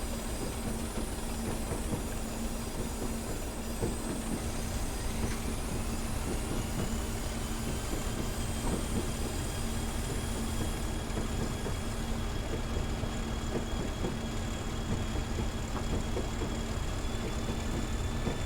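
A diesel locomotive on the Fort William to Mallaig West Highlands line in Train Simulator Classic, a steady low engine drone with rolling wheel rumble and faint rail clicks, continuous and moderately distant.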